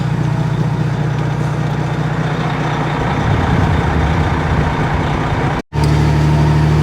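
Loud, close engine drone and tyre roar from a truck driving along a freshly graded gravel road, continuous and rumbling, with a brief cut near the end before it resumes.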